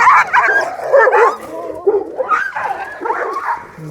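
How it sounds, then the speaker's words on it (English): Several small dogs fighting in a Himalayan village, a close, loud tangle of rapid yips, barks and whimpers that runs continuously for a few seconds. "There's a little dog fight happening, which I have not seen before."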